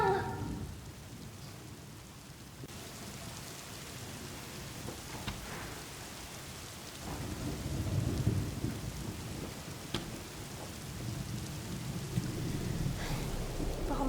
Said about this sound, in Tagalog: Lakas kasi ng ulan, eh.